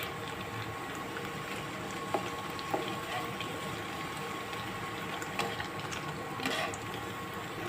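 Chhana jilapi (cottage cheese jalebi) deep-fries in hot oil, giving a continuous soft bubbling hiss with a few small pops, fairly quiet and steady, with no voices.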